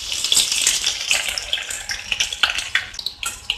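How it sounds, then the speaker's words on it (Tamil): Dense, crackling sizzle of garlic frying in hot oil, with sharp pops and spits scattered throughout, close and fairly loud. "இப்போ இந்த பூண்டையும் இதுல போட்டு நம்ம ஃப்ரை பண்ணிக்கலாம்."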